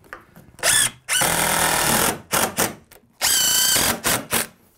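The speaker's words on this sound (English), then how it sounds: "we're going to put 1 screw into the jack. and one into the king" A power drill drives screws into the jack and king studs of a shed frame, with loud whirring bursts that rev up and stop several times, close and with no one speaking.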